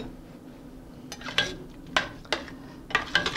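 Mushrooms, bacon and onions tumble into a pot of veal blanquette stew, giving several sharp clinks and soft thuds of utensil against pot spaced across a quiet kitchen.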